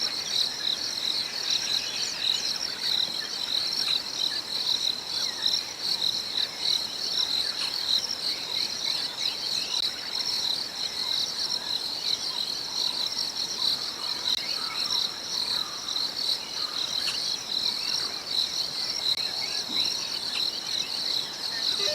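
Dense chorus of crickets trills continuously at sunrise on an African safari, high and shimmering, with no pauses and occasional faint bird calls far off.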